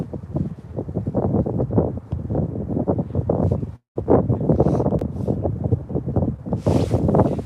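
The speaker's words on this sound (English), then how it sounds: "Y'all don't believe that wind's blowing? Look at that." Strong wind gusts buffet the microphone at a bridge campsite, a loud, roaring, uneven rush that swells and dips continuously, with one brief total dropout midway.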